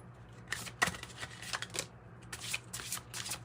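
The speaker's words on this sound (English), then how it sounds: "So I'm just going to shuffle." A deck of tarot cards is shuffled by hand in a quiet room, giving repeated papery riffles and soft flutters in uneven bursts, close and fairly faint, with no talking.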